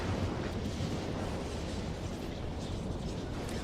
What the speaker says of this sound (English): Yeah, a minor explosion.